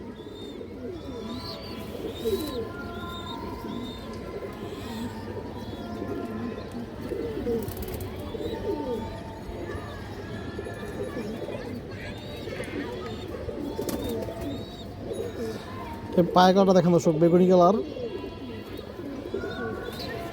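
Several large domestic fancy pigeons coo in low, rolling calls throughout, close by, while someone talks over them; near the end a louder burst of wing flapping or scuffling stands out.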